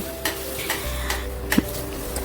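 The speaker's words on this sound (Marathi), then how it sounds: "आता छान मसूर परतून घेते." Soaked whole masoor lentils being sautéed in a pan, a soft steady sizzle broken by a few scraping stirs of a spoon against the metal, close and quiet with no talking.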